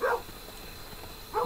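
A dog in the video game Kingdom Two Crowns gives two short, fairly loud barks, one at the start and one at the end, with quiet game ambience between them.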